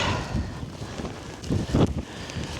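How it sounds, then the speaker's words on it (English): Wind gusts buffet the microphone on a mountain in Arctic Norway at dawn, a low rumbling roar that swells briefly in the middle, fairly faint and steady, with no talk. "Oh, the wind."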